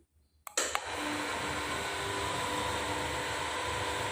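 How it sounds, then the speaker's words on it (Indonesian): A small home lift with an exposed motor starts descending: a short mechanical clunk and click, then a steady, loud motor whir that holds evenly to the end. "Itu lift turun."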